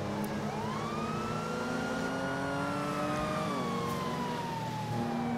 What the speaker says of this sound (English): But it sounds like it's just over revving.